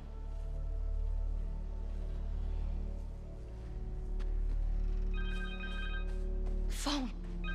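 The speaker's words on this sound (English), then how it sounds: "Phone!" A cell phone ringing in the Marvel's Spider-Man 2 video game, a repeated electronic ring in short bursts over a steady game soundtrack and background hum, with a brief sharp noise near the end.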